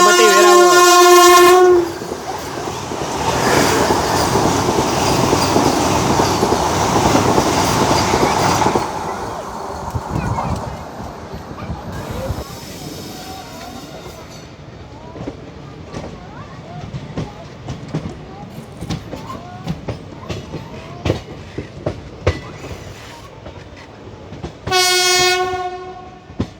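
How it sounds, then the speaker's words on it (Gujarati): A Vande Bharat Express on the Sabarmati–Veraval run sounds a loud horn, then roars past with a sustained rush and rhythmic wheel clatter that fades, before another long horn blast near the end. "તો ભાઈ આવી આપણી વંદે ભારત"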